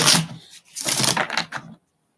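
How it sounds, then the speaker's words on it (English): Tarot cards being shuffled by hand, two quick bursts of crisp riffling and flicking, close and clear, then stopping abruptly into silence. "we're just going to shuffle, put the intent into the cards"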